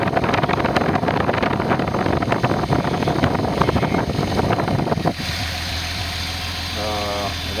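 The turbocharged engine of a Datsun 280ZX runs at idle with a steady low drone, rough and busy at first, then settling into a smoother, quieter hum partway through.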